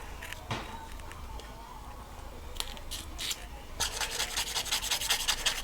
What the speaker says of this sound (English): so I'm scratching the entire surface off gradually